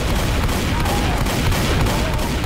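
Dense shotgun and assault rifle fire in the Left 4 Dead video game, a rapid unbroken fusillade of shots filling the whole moment, loud and close with no talk.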